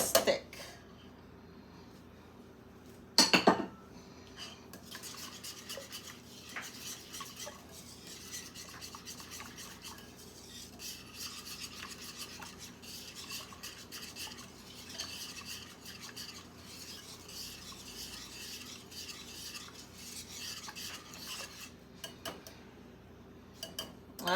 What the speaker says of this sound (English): we're gonna continue to stir it till it gets thick.